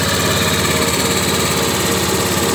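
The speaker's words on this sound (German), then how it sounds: "der Motor bleibt an" A motor left running, idling in a steady, loud, unbroken drone with a fine rapid vibration throughout and no voices.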